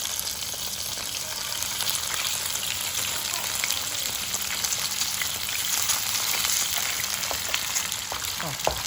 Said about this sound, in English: I already heat up the non-stick pan in order to pan fry the barramundi